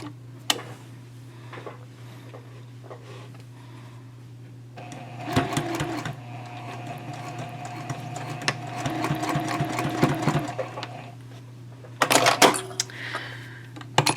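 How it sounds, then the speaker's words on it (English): A sewing machine runs in bursts while basting a zipper into a double zipper pouch, its rapid stitching chatter starting and stopping over a steady hum, with a brief final run near the end. "and then you'll sew. We're just basting it in right now."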